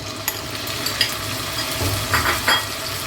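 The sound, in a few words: marinated chicken frying in oil in a wok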